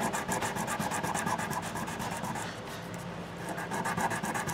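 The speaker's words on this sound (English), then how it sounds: "I'm just going to hit these couple of times with that sandpaper" Guitar frets are rubbed with folded 1000-grit sandpaper over a fretboard guard, a steady rhythmic back-and-forth rasping close up that eases slightly midway, then resumes.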